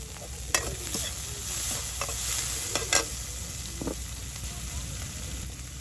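Steady hiss of river fish frying in oil, with occasional sharp crackles and a few clinks of a utensil, close up and continuous.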